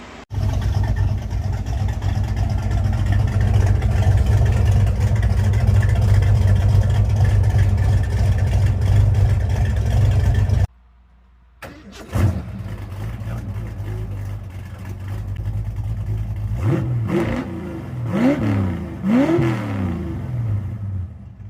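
Ford Mustang V8 with custom flow tubes and new tailpipes, one muffler clamp missing, idles with a loud, steady low rumble, cuts off briefly, then restarts and is revved in several sharp blips over a lumpy idle.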